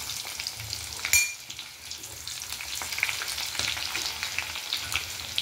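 Chillies, ground spice, garlic chutney and turmeric stir-fry in a pan for a matki recipe, a soft continuous sizzle with occasional scraping stirs, fairly quiet and heard with no talk.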